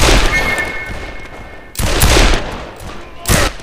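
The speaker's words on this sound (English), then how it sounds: "I literally heard my gunfire." Video game gunfire in rapid bursts, loud and close, a long volley followed by a shorter one, then another burst near the end.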